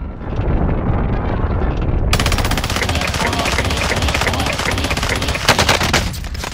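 Loud, close gunfire in the shooter game Call of Duty: Modern Warfare, with sustained rapid automatic bursts crackling over a dense battle din for several seconds.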